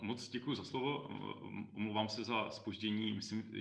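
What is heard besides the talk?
No everyday noise stands out behind the speech.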